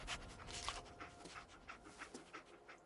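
A dog pants steadily in quick, rhythmic breaths, close and fairly quiet, with a faint whimpery edge and no talking.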